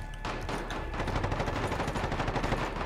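Rapid, continuous video game gunfire, loud and close, a steady stream of shots with no talk over it.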